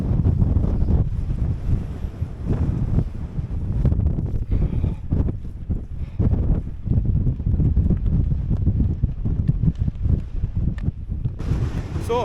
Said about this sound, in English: the wind's blowing in from the east